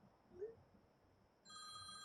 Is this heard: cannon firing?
no